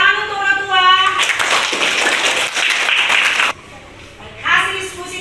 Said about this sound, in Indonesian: Tepuk tangan untuk Batua.